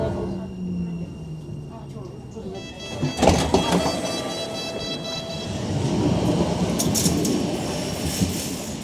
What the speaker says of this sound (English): This is the tram train.